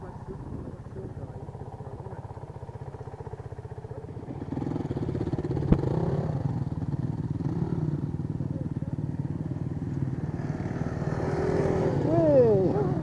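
A Honda CRF250L or CRF450L off-road motorcycle runs on an offroad training ground, its engine droning steadily and then revving harder and rising in pitch toward the end, while a coach talks over it.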